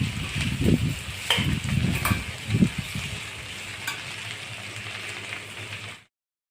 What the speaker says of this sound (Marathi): असे तेल घालून परतून घेणे।